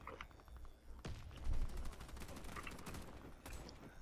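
Weapon fire in the Warface video game during a Free For All match, a close-range gun firing steady rapid bursts that stay loud through the clip, with no voices.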